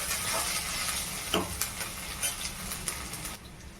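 Onions and spices for paneer butter masala frying in a pan, a continuous close sizzle with occasional stirring scrapes and small pops.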